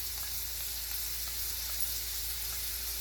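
Onions, green chillies and ginger garlic paste frying in hot oil, giving a steady, even sizzle that stays constant throughout, close up with no voices.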